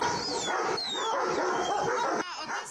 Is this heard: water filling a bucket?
no